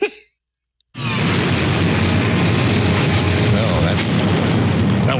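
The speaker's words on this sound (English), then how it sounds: "That's an explosion." A loud, roaring explosion sound effect played from reel-to-reel tape bursts in after a short silence and holds as a dense, sustained rumble with no voice over it.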